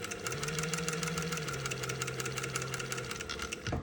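An MG-3U sewing machine running a patch keeps a steady, close mechanical drone and rapid knocking the whole way through, then stops abruptly at the very end.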